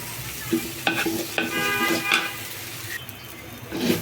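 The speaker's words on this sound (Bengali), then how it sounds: "ভাজতে ভাজতে দেখবেন একটু লেগে আসতেছে, শব্দ করতেছে, তখন বুঝবেন আপনার চালটা ভাজা হয়েছে।" Rice stir-fried in a pan for beef tehari gives a soft, steady sizzle broken by several distinct scraping strokes of the spatula, close and moderately loud, with no voices.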